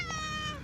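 A stray cat lets out one clear, sweet meow, close and fairly loud, with its pitch sliding downward over less than a second and no talking over it.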